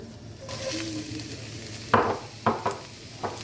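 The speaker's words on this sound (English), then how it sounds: "Okay, oil is hot enough, I think. I'm going to dump in our garlic and our onions." Garlic and onions sautéing in hot oil, a steady sizzle that swells as they hit the pan, followed by a few sharp clinks and scrapes of a utensil against the cookware, with no one talking.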